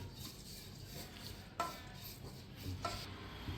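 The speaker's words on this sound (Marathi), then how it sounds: "हे सगळं घालून घ्यायचं आहे यामध्ये हे चांगलं परतून घ्यायचं आहे" Mutton pickle mixture with grated dried coconut is sautéed in a pan, giving a faint, steady low sizzle with two soft scraping stirs partway through. No one speaks.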